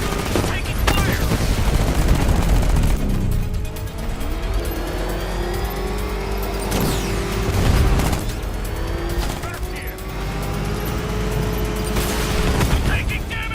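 Rapid bursts of gunfire crackle through a Batman Arkham Knight combat scene, layered with engine roar and booms. The shots come in clustered volleys over a steady loud rumble, and a voice speaks over the action.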